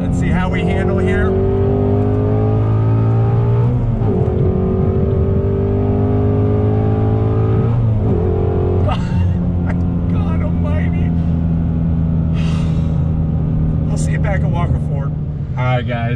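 A 2020 Ford Shelby GT350R Mustang driven hard, its engine loud and close, revving and shifting through repeated rising pulls with brief drops between gears, with a voice speaking over parts of the drive.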